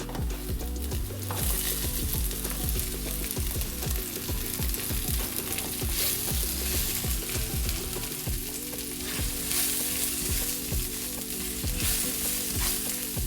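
Chopped onion fries in a hot pan, a dense, continuous sizzle with rhythmic scraping of a utensil stirring it, close and loud throughout with no voices.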